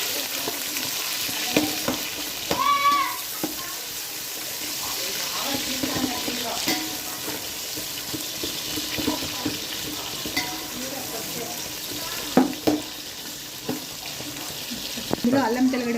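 Onions sizzle and fry in a pan for mutton biryani, a steady hiss under occasional stirring scrapes and faint talk.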